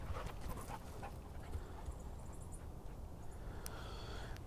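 A dog pants steadily close by outdoors, quick rhythmic breaths with a few snorts and soft whimpers, continuous for several seconds with no talking.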